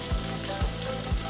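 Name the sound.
salmon sizzling in a hot pan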